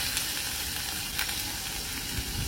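Garlic, curry leaves and two small chopped onions frying in oil in a pan, producing a dense, even hiss of sizzling that stays level for the whole stretch.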